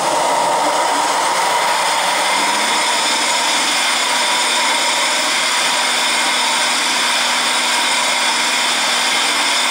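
A fixed-post machine rough grinds a 20-inch quartz telescope mirror on a turntable turning at 35 to 40 RPM, giving a loud, steady motor drone with a gritty abrasive whine that runs unbroken throughout.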